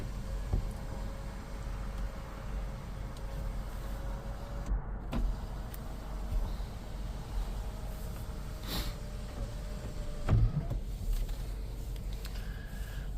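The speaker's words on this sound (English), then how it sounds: "So our sunroof is up. It's tilted up. We're going to tilt it down. And then we'll open it up." A Lexus LX570 sunroof motor runs in a faint steady electric whine as the roof tilts down and slides open, with a few soft clicks and thumps along the way inside the quiet cabin.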